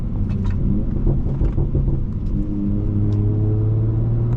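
A 2018 Audi RS5 Coupe with a Stage 2 tune drives along, its engine rumbling low and steady from inside the cabin, then settling into a smoother, rising drone near the end.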